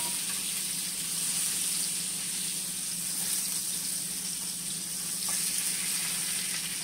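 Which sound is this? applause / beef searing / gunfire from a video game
beef searing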